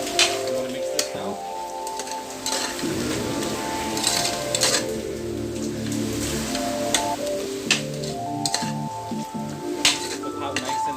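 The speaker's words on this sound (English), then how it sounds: "I'm going to mix this now." Chickpeas, beef and hot bean sauce mixed in a pan, giving a steady sizzle with clinks and scrapes from the utensil and a voice talking over it.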